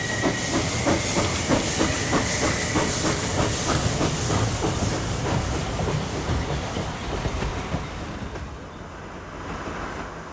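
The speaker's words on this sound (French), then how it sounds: "Sur cette 140 autrichienne de la série 56, on n'entend que 2 coups d'échappement par cycle complet." Austrian series 56 two-cylinder compound steam locomotive, a 2-8-0 type, working with a loud continuous steam hiss and rhythmic exhaust beats plus rail clatter, gradually fading slightly toward the end.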